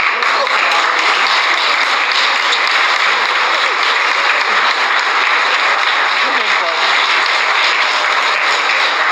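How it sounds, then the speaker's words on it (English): Sustained, dense applause from an audience at a memorial gathering, steady and loud for the whole stretch with no pauses. "can you give my dad the applause that he really needed?"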